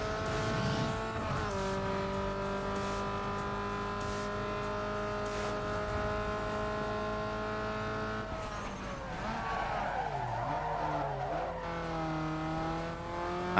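A racing car engine roars steadily in the video game Need for Speed Underground 2, holding a droning pitch with gear shifts, then dipping and climbing again amid tire squeal and skidding.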